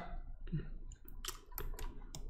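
Rapid mouse clicking in the idle game Clicker Heroes, quick light ticks repeating in uneven bursts over a soft background hum.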